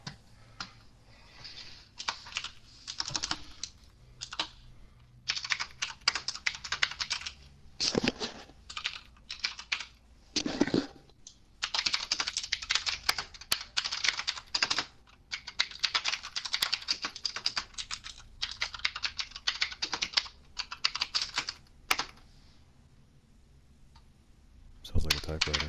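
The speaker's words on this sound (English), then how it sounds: "Oh yeah, I'm on my keyboard right now, dude. Sorry if it's fucking noisy." Rapid clattering keystrokes on a computer keyboard, close and fairly loud, come in dense bursts with short pauses for most of the stretch, and a voice talks now and then over the typing.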